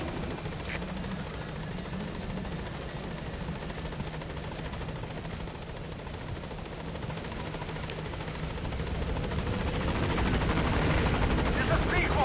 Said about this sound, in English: I need the helicopter to come in and pick me up.